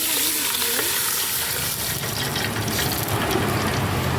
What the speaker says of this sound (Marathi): तीन तांबे पाणी घालून घ्यायचं